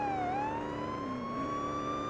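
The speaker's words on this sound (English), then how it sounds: "How do I turn on the siren?" Police car siren in the Police Simulator video game, a loud, continuous wailing tone that dips briefly and then holds steady and close, with no voices.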